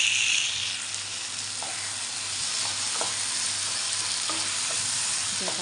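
Garlic sizzles and fries in a pan of pepper-cumin kuzhambu, a steady close hiss running throughout with a few soft stirring scrapes and clicks, no voices.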